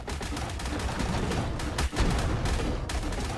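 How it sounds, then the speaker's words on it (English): Cannon fire from the game ARK: Survival booms in dense, loud, continuous blasts with a brief gap near the middle, close and heavy, with no voices. "Let's see if I can aim this cannon. Aim up."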